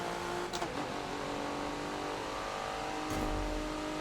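An all-wheel-drive car's engine revs under throttle in a Forza racing game on the Homestead super mini track, a sustained steady drone with a brief surge toward the end.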